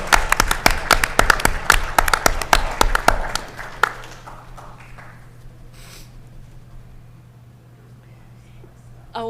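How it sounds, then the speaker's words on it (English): A school board meeting audience applauds the Harvard Model Congress team, with crisp, fairly close claps for about three seconds that quickly die away into a quiet room with low hum and a few faint sounds. "Please join me in giving them a round of applause on their excellent work"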